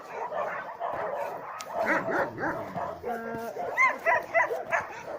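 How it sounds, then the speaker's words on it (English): Several dogs at a dog shelter bark and yip in bursts, some separated from the other dogs for aggression, with muffled voices talking in the background. "those 2 dogs in there are too aggressive to be with the other dogs"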